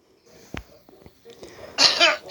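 A voice imitates a raspy cough, a few rough hacking bursts building to a louder wheezy fit at the end, close up.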